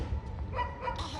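A dog gives a couple of short, fairly faint barks or yips against a quiet background, with no talk heard.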